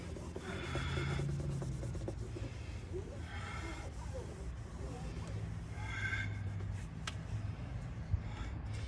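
A shop towel folded into a V is worked firmly along a Honda Passport door sill, producing repeated rhythmic rubbing swishes in several strokes, close and fairly quiet over a low background hum.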